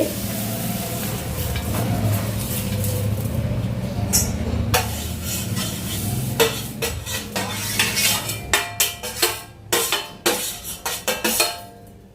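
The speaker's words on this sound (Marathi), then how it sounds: "तर आता हे सगळं मी एकत्र करून घेते" Ingredients being stirred together in a bowl while making a weight-loss powder, with clinking and scraping of a spoon against the vessel that grows into a run of sharp, close knocks toward the end.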